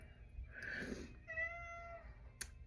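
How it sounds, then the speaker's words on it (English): A cat meows a few times, moderately close, with a brief sharp click near the end and a quiet room hum underneath. "You hear my cat in the background."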